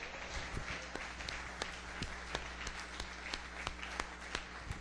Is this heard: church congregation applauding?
yes